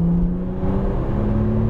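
A Porsche 911 Turbo at full throttle, a loud, close engine drone with steady harmonic tones holding and rising slightly as it pulls hard, with no voices over it.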